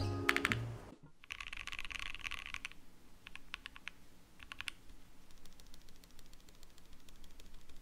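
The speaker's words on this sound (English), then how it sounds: "this mod made it so that this keyboard is actually now gasket mounted" Typing on a modded, gasket-mounted mechanical keyboard built for a thocky sound, with bursts of close, rapid keystrokes separated by brief pauses and a steady run of lighter clicks toward the end.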